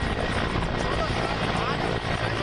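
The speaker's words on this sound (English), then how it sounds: "Garud Special Forces of the Indian Air Force are carrying out special operations drills using Apache attack helicopters," Military helicopters, including Apache, Chinook and Mi-17 types, fly over Nyoma airstrip near the LAC, their rotors churning loud and steady throughout.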